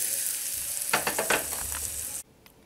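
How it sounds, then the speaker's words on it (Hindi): Mustard seeds and curry leaves sizzle and crackle in a spoonful of hot oil for a coconut chutney tempering, a steady loud frying hiss with a few sharper pops before it cuts off abruptly. "अब हम इसमें डालेंगे राई, करी पत्ता। अभी हम ये बघार नारियल की चटनी पर डालेंगे।"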